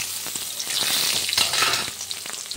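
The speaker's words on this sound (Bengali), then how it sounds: "তো এই যে দেখো, পেঁয়াজ রসুন সব ভাজা হয়ে গেছে" Onion and garlic fry in a pan after spiced potatoes, a steady loud sizzle with a few scraping stirs and a sharp clink near the end, no voices.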